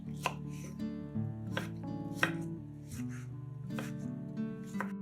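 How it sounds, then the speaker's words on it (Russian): A knife dices tomatoes rapidly on a cutting board, steady rhythmic thuds repeating close by with no talking. "Половинки помидора нарезаем пластинками, а затем режем их кубиками."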